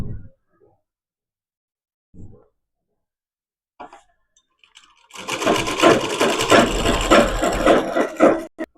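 A sewing machine stitches the lining of velvet pants, running in one steady mechanical rattling burst for about three seconds after a few quiet handling knocks.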